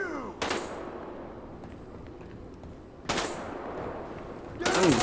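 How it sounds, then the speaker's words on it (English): Video game gunfire comes in three loud, sharp bursts of rapid automatic shots, separated by quieter stretches of game background noise. "Who's shooting at me, bro?"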